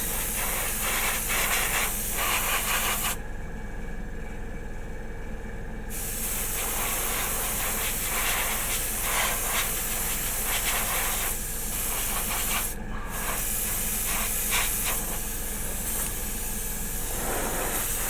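Aerosol spray can misting red paint onto the edges of a Pegasus Hobbies War of the Worlds model kit, close steady hissing bursts with short gaps between them.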